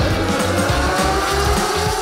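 Racing motorcycles at the Mandalika circuit scream past at close to 200 km/h, loud and close, their engine notes rising and falling in quick sweeps.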